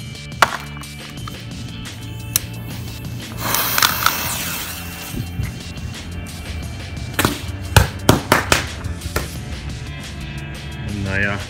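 A Panda giant jumping-jack firecracker (Knallfrosch) going off outdoors: a few scattered sharp cracks early on, then a rapid cluster of snapping bangs near the end, with some rustling between.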